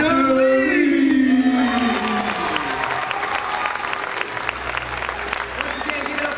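A crowd at a high school talent show applauds and cheers for the judges, loud clapping mixed with whoops and shouts while an announcer's voice speaks over the start.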